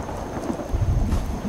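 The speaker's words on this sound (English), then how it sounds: "And now it's raining too." Steady rain hiss with a low, rolling rumble of thunder swelling underneath, from the video game Fallout 4 in the Far Harbor area.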